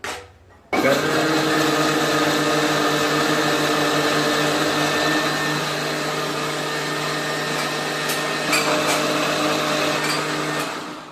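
A kitchen mixer grinder whirs loud and steady, blending homemade juice with milk and sugar, switching on after a brief quiet start and running continuously with a dense motor whine.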